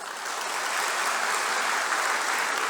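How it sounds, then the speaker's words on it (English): Warm, steady audience applause at a medical college White Coat Ceremony, a dense continuous wash of many hands clapping that rises quickly and holds, with no voices over it. "Please join me in a warm round of applause for these individuals"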